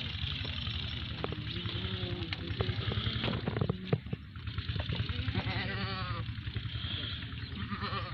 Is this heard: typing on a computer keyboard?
no